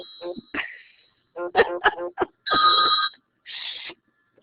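A phone rings during a live university lecture, a few short bursts of electronic ringing separated by brief silences, loud and close.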